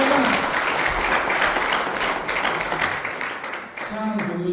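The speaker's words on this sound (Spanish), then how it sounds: "Dale un aplauso a Dios." Church congregation clapping in loud, dense applause during a sermon, sustained for several seconds before fading, with a voice resuming faintly at the end.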